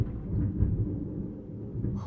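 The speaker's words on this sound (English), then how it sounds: "That was thunder." A brief low rumble of thunder rolls for about two seconds, muffled and moderately loud, heard indoors with no talk over it.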